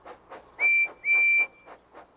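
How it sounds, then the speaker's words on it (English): Steam-style whistle of Percy, a small train engine from Thomas & Friends, giving two sustained bright blasts amid soft intermittent background sounds. "Percy blows his whistle to help Thomas find him."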